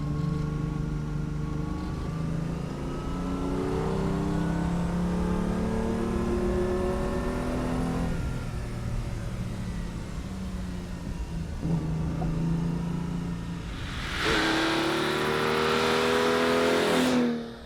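A 1950 Ferrari 166MM Le Mans Berlinetta engine revs up to about 6,000 rpm while driving, its loud rising whine climbing smoothly through gears, easing off and surging again, close and alone.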